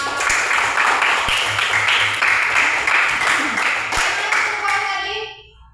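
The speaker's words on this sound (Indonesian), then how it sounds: "Tepuk tangan dulu untuk kita semua." A classroom of students claps together at the end of a group discussion, a dense, steady patter of many hands that fades out near the end, with a few children's voices mixed in.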